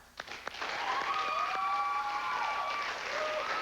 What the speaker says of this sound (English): I think they deserve a round of applause for making it an exciting match